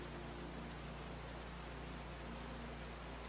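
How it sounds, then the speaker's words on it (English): Steady rain falls at a summer camp lake at night, an even, continuous hiss of drops with no voices, holding at the same level throughout. "Rain has a way of cleansing and renewing."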